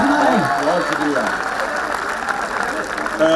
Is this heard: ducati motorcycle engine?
no